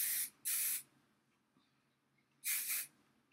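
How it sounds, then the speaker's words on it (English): Hairspray sprayed onto hair while setting big spiral curls: two quick hissing bursts close by, then a pause and a third longer double burst, with a quiet room between. "So we're going to spray it."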